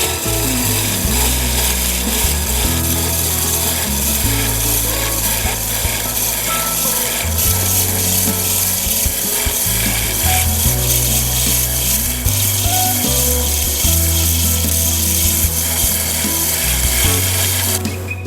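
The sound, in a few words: cupped carbide cutter slicing wood on a lathe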